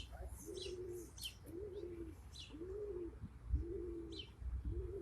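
Pigeons cooing on a rooftop, a series of five soft, rounded coos in an even rhythm about once a second, joined by brief higher chirps from other birds, all fairly quiet and close.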